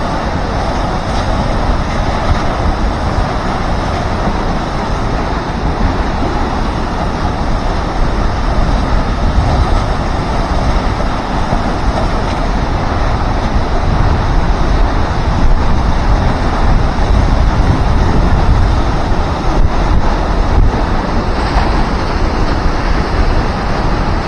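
Multnomah Falls pouring down with heavy power, a loud, continuous broadband roar of rushing water close by, steady throughout with no voices.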